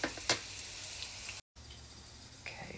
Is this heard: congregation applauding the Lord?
no